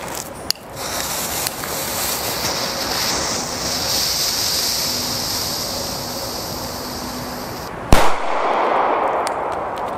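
A Pyrotrade Vipper 3 black powder firecracker goes off outdoors as a single sharp, loud bang late in the clip, set against constant heavy wind rumble on the microphone.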